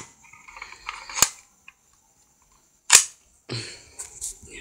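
An airsoft G.20 pistol firing BB pellets: two sharp, loud snapping shots a couple of seconds apart, close by, with light handling clatter around them.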